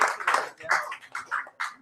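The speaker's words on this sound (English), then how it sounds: "give them all a round of applause" Audience at a live poetry reading applauding in short, uneven bursts of handclaps from a small crowd, fairly close and lasting under two seconds.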